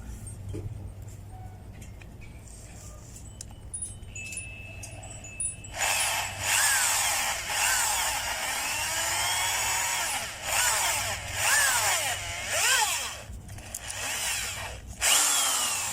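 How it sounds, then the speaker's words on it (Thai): A power drill whines loudly in sustained bursts, boring holes into material with rising and falling pitch, close up, after a quieter stretch of faint handling noises. "เดี๋ยวเจาะรูเจาะรูตรงนี้นะครับ"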